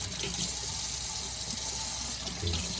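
Tap water runs steadily into a sink while waiting for it to turn hot, a constant hissing splash at moderate level with no talking.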